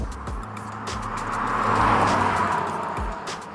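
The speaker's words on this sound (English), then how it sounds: "when you keep pressed, that groan develops into a pretty audible boom" A Mercedes-Benz C 300d four-cylinder diesel under hard acceleration, its engine groan swelling into a steady boom that peaks midway, then easing slightly, with no talk over it.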